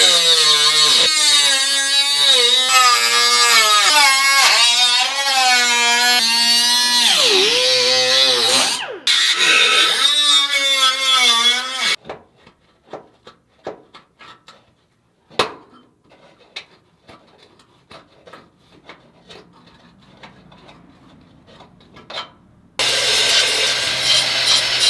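Metal being cut out of a vintage Porsche body panel with a power tool, a loud continuous whining cut with shifting pitch for about twelve seconds, then quieter scraping and taps before the cutting resumes briefly at the end.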